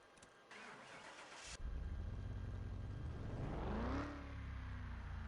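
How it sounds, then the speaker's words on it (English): A junkyard car in Car Mechanic Simulator 2021 cranks over and fires up, its engine catching and revving up clearly before settling into a loud, steady idle, with no voices. "let's start the car"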